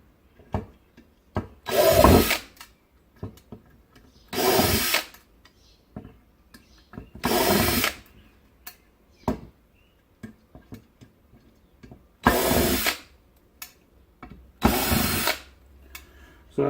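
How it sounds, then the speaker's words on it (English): A DeWalt 20 volt max cordless drill drives screws into wood in several loud bursts of whirring, each lasting under a second, separated by quiet gaps with small clicks and handling noises. "So I got this drill for my birthday. It's a 20 volt max Dewalt."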